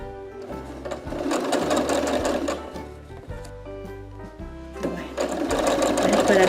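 A sewing machine runs in a close, steady mechanical whir with rhythmic clatter as it sews a round crochet cushion, and someone speaks over it.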